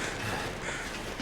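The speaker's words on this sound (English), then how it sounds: "look at those birds" Crows cawing in the snowy wilderness of The Long Dark survival game, a short burst of harsh caws over steady ambient wind, moderately close and with no voices.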